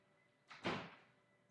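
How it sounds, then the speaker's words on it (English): A door pushed shut indoors, a single soft whoosh followed by a dull thud that fades quickly, faint and alone. "I'm going to shut the door real quick"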